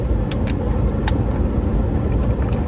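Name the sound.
car driving around the block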